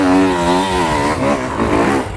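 A motocross motorcycle throttling up a climb, its engine loud and close, with wavering revs that rise, dip and surge again as the throttle is worked, and no voices.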